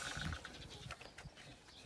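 A single ram bleat, fairly faint and brief, with soft rustling and background noise around it and another short low call near the end.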